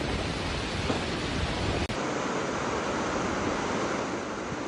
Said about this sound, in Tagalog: Malakas na hangin at ulan din ang naranasan sa Marihatag,